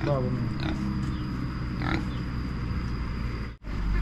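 A farm pig in a rural Lao village gives a few short grunts near the start and middle, fairly close, over steady background noise.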